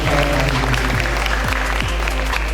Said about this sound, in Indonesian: Mari kita tepuk tangan dulu teman-teman atas kerja kerasnya.